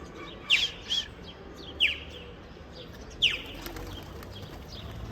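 Spinner pigeons calling in a loft, several short chirping notes at moderate distance, scattered singly over a few seconds against a faint background hiss.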